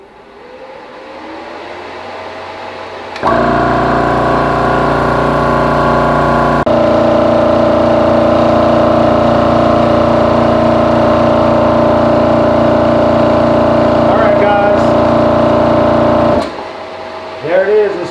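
An Air Venturi air compressor starts up and runs loudly and steadily, filling a tank from 3,100 toward 4,500 PSI, with a constant whine over a deep hum before shutting off; a voice talks before it starts.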